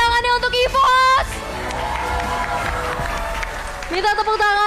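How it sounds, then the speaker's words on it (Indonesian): A crowd at a Mobile Legends esports match between RRQ and EVOS claps and cheers for several seconds. The applause swells in the middle, and a host's voice talks over the start and end. "boleh minta tepuk tangannya untuk EVOS."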